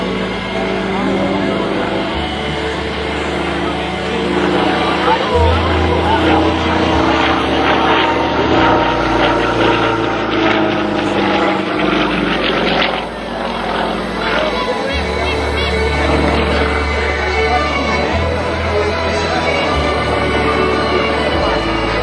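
A Sukhoi SU-31 aerobatic propeller plane drones continuously with shifting pitch as it flies inverted and maneuvers at an air show, under steady commentator talk.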